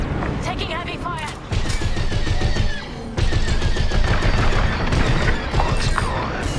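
Heavy blaster fire and rapid impacts during a Star Wars: Squadrons space dogfight, a dense loud barrage of bursts that swells after a short lull and keeps pounding to the end, with voices and cockpit noise mixed in.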